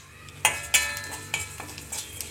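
Urad dal and cumin seeds sizzle in hot cooking oil at home, a steady crackling hiss with a few sharp spits and stirring clinks near the pan.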